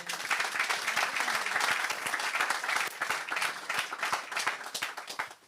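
Church congregation applauding during a healing and baptism service, a dense, steady wash of many hands clapping that stays loud throughout and thins slightly toward the end.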